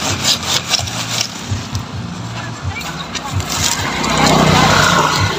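A hand saw rasps through dry firewood in rhythmic back-and-forth strokes, growing louder and steadier toward the end, with a voice talking over the first part.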